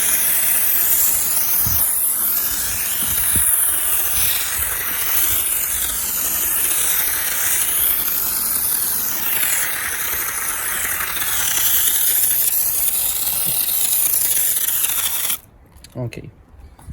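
A pump sprayer hisses steadily as it mists water over a car during a Soft99 Glaco coating job, with faint clicks of the pump throughout and an abrupt stop near the end.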